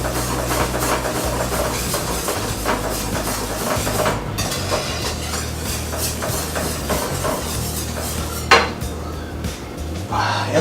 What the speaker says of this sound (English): Now you're just going to go ahead and whisk that in.